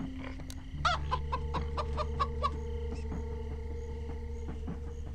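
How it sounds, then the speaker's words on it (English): A chicken in the video game Minecraft Story Mode clucks in a quick run of short, bright calls, then falls quiet over a steady low background hum. "A chicken."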